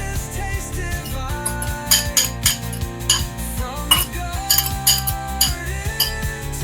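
Utensil clinking rapidly against a bowl while mixing eggs with salt and pepper for a Filipino okra omelet, a steady run of close, bright metallic taps with no talk.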